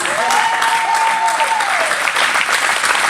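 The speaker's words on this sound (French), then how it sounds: "On peut l'applaudir, merci Olivier." Loud, packed applause from an evening show audience in France rolls on without a break, with a whistle or cheering voice rising above the clapping.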